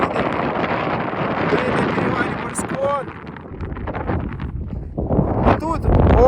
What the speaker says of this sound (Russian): тут очень сильный ветер